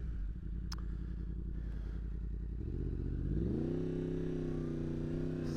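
Motorcycle riding through town, with a steady engine rumble from close by that rises in pitch midway as the bike accelerates and then holds a higher, even drone, alone without talk.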